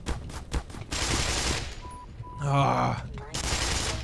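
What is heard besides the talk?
assassins firing pistols in the video game Black Mesa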